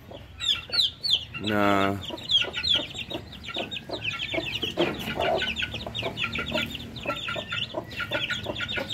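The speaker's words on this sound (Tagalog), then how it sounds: "Ito naman ang ating mga sisiw" Chicks and chickens in a backyard chicken yard cluck and peep close by in busy, overlapping bursts, with a brief louder squawk near the start and a person speaking briefly among them.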